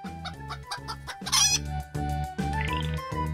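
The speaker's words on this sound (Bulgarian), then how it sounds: "Кокошка в курника си коткодяка." A hen in a henhouse clucks in a quick, repeated rhythm of short calls, loud and close, with a brief higher squawk partway through and a rooster-like call among them; no speech.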